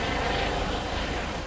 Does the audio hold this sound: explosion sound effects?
no